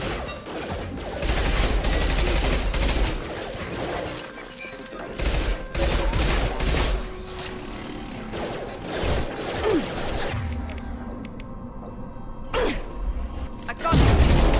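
Heavy sustained gunfire and booming impacts in the video game Mass Effect 2, loud overlapping volleys with crashes and mechanical clatter, easing briefly before a final loud burst.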